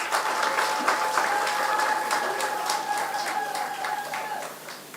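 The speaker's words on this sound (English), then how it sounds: "Let's give them another round of applause" Audience at a Golden Drum Awards ceremony giving performers a steady round of applause, dense and sustained, moderately distant, with a sustained tone running under it and fading slightly toward the end.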